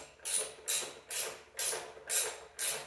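Ratchet with an extension snugging a 10 mm bolt on an off-road jack, six evenly spaced clicking, whirring pulls, close and fairly quiet, with no talk.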